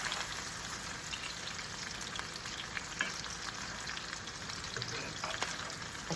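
Franks and beans fry in oil in a pan, giving a steady soft sizzle with scattered small pops and crackles, close up and unbroken by talk.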